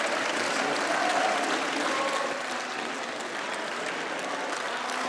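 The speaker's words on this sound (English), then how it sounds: "there was also quite a lot of clapping for Orbán from the far-right members of parliament" Sustained applause from far-right members of parliament in a plenary chamber, a dense, steady wash of many hands clapping at an even level throughout with no clear voices.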